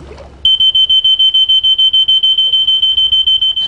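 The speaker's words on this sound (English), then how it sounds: "We can see that the pool guard also alerts us when someone is in the water." A Poolguard pool alarm going off after a bag is thrown into a swimming pool: a loud, shrill, high-pitched beep pulses rapidly and steadily, several times a second, from start to finish.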